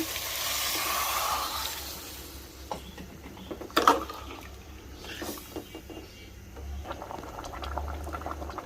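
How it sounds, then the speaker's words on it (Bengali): Water pours into a pot of potato and hilsa fish curry with a gushing splash, then settles into soft bubbling and occasional pops of simmering nearby. "এখন আমি পানি দিয়ে দেব।"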